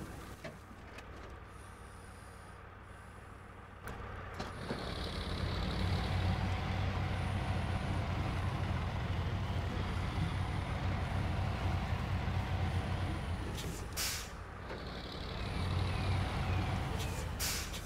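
A heavy truck in the SnowRunner game drives on, its low engine drone rising and holding steady, with a few sharp hissing air-brake-like bursts and a faint steady tone above.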